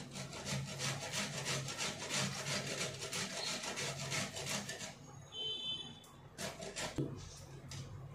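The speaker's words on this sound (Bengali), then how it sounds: "এইভাবে আমি কফিগুলোকে ঘষে নেব" Cauliflower is grated by hand on a grater in a kitchen, a close, rapid run of rasping strokes that pauses briefly and resumes, with no talk.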